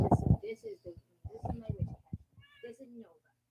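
A cat meows several times close by in a quiet room, the cries sitting between a person's nearby talk and a voice imitating the meows.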